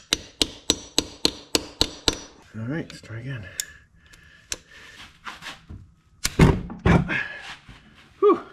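A T27 Torx bit being hammered into a screw while servicing Ski-Doo crank bearings, a quick series of about eight sharp metallic taps, then a few more scattered blows, with someone talking in between.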